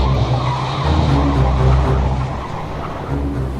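A car turns sharply with its tires skidding and squealing on the road, accompanied by a steady engine rumble. The sound is loud and close and lasts several seconds, with no talking.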